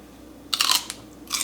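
Crunchy food bitten and chewed close up, a short burst of crisp crunches followed by a second bite after a pause.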